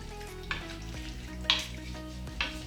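Rabbit pieces in tomato sauce are stirred in a pan, three distinct scrapes of a utensil rising over a low, constant sizzle, close and quiet with no voices.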